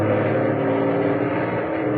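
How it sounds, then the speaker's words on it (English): Truck engine pulling away in a radio drama, a steady low rumbling drone that holds at constant loudness and stands alone without voices. "The truck began to move."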